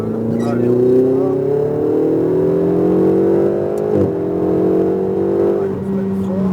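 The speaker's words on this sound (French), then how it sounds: "Raymond, on peut passer avec la Ferrari? Pas trop vite" A Ferrari accelerates on the Mettet race track with a steady, rising engine tone heard from inside the car, climbing through gears with a brief shift dip midway, while people talk over it.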